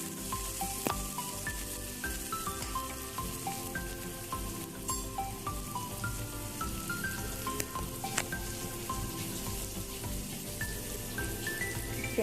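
Onions, cumin, dried red chilies and a green chili crackle and sizzle in hot oil for a green bean sabzi, a steady dense frying hiss with occasional stirring scrapes, close up and without speech.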